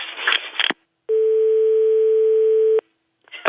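A telephone tone sounds while a call is being placed, one steady unbroken tone lasting under two seconds, loud and clean, framed by brief bursts of line noise before and after.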